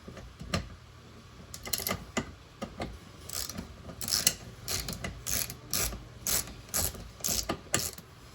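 A 10mm socket ratchet tightens a bolt on a front license plate bracket, giving a run of quick, close clicking bursts in uneven spurts with short pauses between them.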